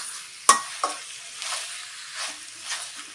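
Chicken pieces fry in oil with ginger garlic paste, turmeric and salt for chicken varuval, a sharp utensil clank opening onto a steady close sizzle with occasional stirring scrapes.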